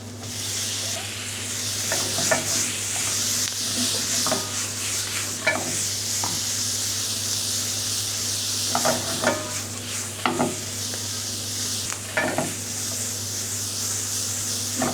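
Spinach sautéing with softened onions in a pan produces a continuous close sizzle under a steady stove hum, broken by intermittent clinks and scrapes of stirring, with no talking.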